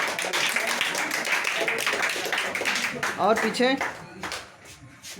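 Village children clapping at a general-knowledge quiz competition near Prayagraj, a few seconds of brisk clapping that thins out as an adult voice speaks over the tail end.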